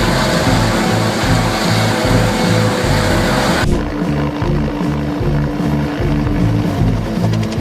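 A helicopter's rotors thump loudly and steadily during a risky takeoff with a steep tilt near dynamic rollover, a heavy rhythmic beat under constant engine roar that stays close and continuous throughout.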